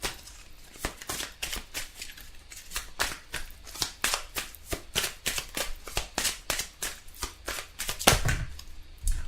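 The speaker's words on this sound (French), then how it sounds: "Et on va tirer quelques cartes pour l'amour aujourd'hui avec celui-ci." Tarot cards shuffled by hand in a steady run of quick riffling bursts, close and fairly loud, one after another with no talking over them.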